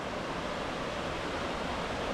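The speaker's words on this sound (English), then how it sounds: "Supposed to be a double waterfall in good flow." A double waterfall in good flow sends a steady, broad roar of rushing water from a distance along a Washington forest trail, with no voices over it.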